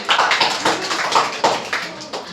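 A classroom of children in a sixth-grade science lesson claps together for a classmate in a quick, rhythmic burst of sharp, close hand claps lasting a couple of seconds.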